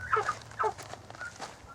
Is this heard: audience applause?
no